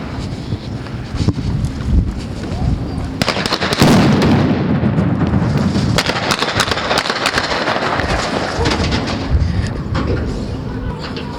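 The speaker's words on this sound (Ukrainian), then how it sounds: "Чуємо стрілянину прямо зараз." Rapid cracks of gunfire pop repeatedly through heavy wind buffeting the microphone, loud and fairly close, continuing in irregular bursts during an armed seizure of the Zhytomyr regional administration building.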